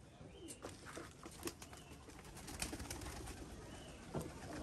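Pigeons coo and stir in a rooftop loft where birds are kept for pigeon flying, with soft repeated calls, occasional wing flutters and faint background activity, quiet and fairly close.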